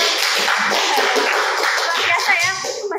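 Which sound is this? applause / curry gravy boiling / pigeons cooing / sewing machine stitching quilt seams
applause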